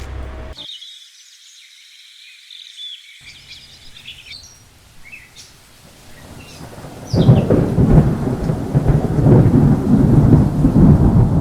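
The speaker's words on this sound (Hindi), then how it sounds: "ऑलरेडी हमें लग रहा है कि हाँ एकदम से तेज़ बारिश हो गई" A heavy rain and thunder weather effect plays in a Lumion architectural walkthrough. Birds chirp over a low thunder rumble at first, then dense, loud rainfall suddenly takes over and roars steadily to the end, with no voices.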